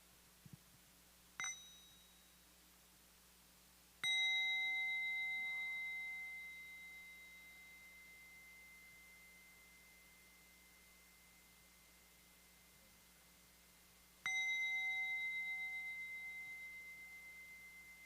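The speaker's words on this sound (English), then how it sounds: "then you wake the bell, and then you breathe in and out once more" A mindfulness bell at a family meditation retreat is first lightly touched to wake it, then struck twice, each time a clear sustained metallic tone that rings out slowly into quiet room hiss, with no talking.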